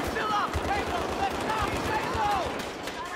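Automatic gunfire and explosions in the video game Battlefield 3, a dense continuous barrage of shots with game sound effects and chirping tones layered over it.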